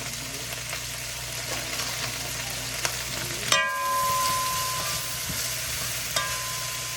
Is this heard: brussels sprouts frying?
yes